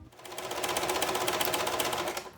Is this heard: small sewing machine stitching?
yes